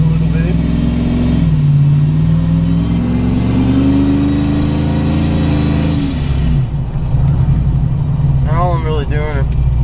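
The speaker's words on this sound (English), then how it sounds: "all I'm really doing is part throttle pulls right now" A ProCharger-supercharged Chevrolet Trailblazer SS engine drones and builds in pitch on part-throttle acceleration in traffic, rising then easing off, with someone talking over it near the end.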